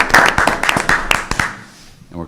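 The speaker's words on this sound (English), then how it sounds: "And a round of applause for the man." Applause breaks out in a city council meeting chamber, a handful of sharp claps in an uneven patter under overlapping voices, fading out after about two seconds.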